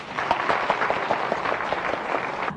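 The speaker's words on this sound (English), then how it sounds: "And give him a big round of applause." An audience at a motivational speaker's event claps steadily, a brisk, even wash of many hands heard up close for a couple of seconds.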